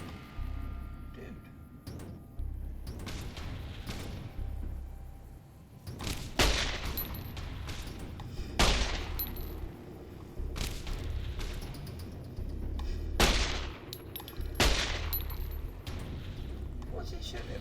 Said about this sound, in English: What's he shooting at me for?